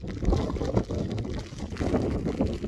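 Gusty wind buffets the microphone on a Scottish hill summit at Carrot Hill, a rough, continuous rumble with uneven surges and no speech.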